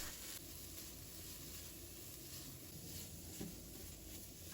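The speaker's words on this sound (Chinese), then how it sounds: "把苦瓜放入锅中，把它的水分炒干" Bitter melon stir-fried in a dry, oil-free hot wok gives a steady, faint sizzle and hiss that runs throughout, with soft stirring scrapes and no talking.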